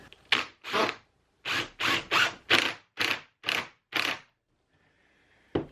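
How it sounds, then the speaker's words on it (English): Two-inch screws being driven into wood, heard as about nine short, close, rasping bursts of a driver in an uneven rhythm, then a pause and one final burst. "Now I'm just going to use a couple of 2-inch screws to get this to hold in here."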